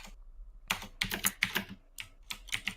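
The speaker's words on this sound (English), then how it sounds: "host is typing away at something vigorously" Fast, vigorous typing on a computer keyboard comes in bursts of clustered key clicks, fairly quiet and with no speech during the clip.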